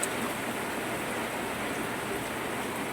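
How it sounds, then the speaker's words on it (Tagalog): Steady, dense rain hisses evenly throughout, a continuous wash of heavy downpour with no voices or distinct individual drops. "Kasi medyo ano po talaga, medyo sobrang lakas po ng ulan"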